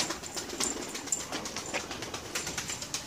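A runaway pigeon on a rooftop cooing softly, low murmuring calls that are faint and somewhat distant over outdoor background noise, with light rustling.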